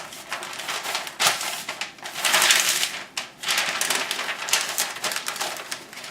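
Beef back ribs, rubbed with seasoning, being wrapped in butcher paper before going back on the smoker: close, continuous crinkling and rustling of stiff paper with a few sharper crackles and no talking.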